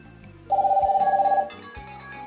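Call ringing on a Hello Kitty kids' Bluetooth watch phone: one steady, pulsing electronic ring tone lasting about a second, close and clear over a low hum.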